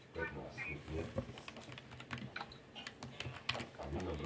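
Rapid typing on a laptop keyboard during a Pet Simulator X game session, a dense run of close, irregular key clicks with children talking over and between the keystrokes.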